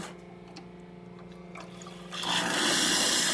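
Hot water hisses and streams steadily from an Expobar espresso machine under a constant mechanical hum, growing louder and brighter partway through.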